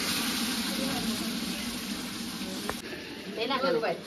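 Broth is poured into fried masala for a mutton curry cooked over a wood-fired stove, giving a steady, fairly quiet sizzle with a sharper splash of liquid near the end and a voice speaking over it.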